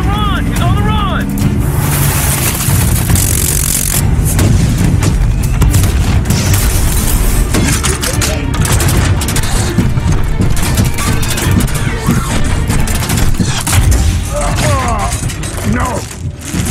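Dense movie battle mix of gunfire and missile explosions in a Transformers Age of Extinction hunt scene, with continuous loud booms, rumble and bursts of shots. Shouting voices are heard over the chaos.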